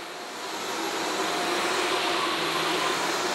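A Shark AZ3002 Stratos vacuum cleaner runs on carpet with a steady, close, rushing whine that swells slightly in the first second and then holds evenly, with no one talking.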